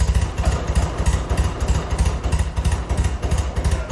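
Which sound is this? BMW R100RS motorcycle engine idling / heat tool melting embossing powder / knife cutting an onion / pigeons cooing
BMW R100RS motorcycle engine idling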